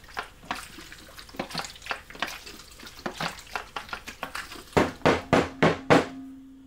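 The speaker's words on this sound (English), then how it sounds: "I will just pour that back into this container" Photographic film fixer being poured from a developing tank back into its storage container during home black-and-white film development, a run of liquid splashes and sloshes ending in a few loud gurgling pours close by.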